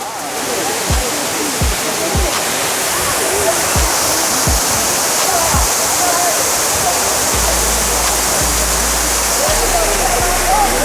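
Kona Falls, a 40 ft waterfall at Kailasakona in Chittoor, Andhra Pradesh, roars loudly and constantly nearby as a dense wash of rushing water, with occasional low thumps and a voice faintly present.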